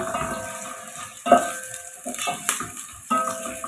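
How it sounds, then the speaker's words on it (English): Onions fry in coconut oil in a cooking pot with a soft, steady sizzle, broken by the clinks and scrapes of a utensil stirring against the pot. "So I'm going to wait my onions to get a bit brown."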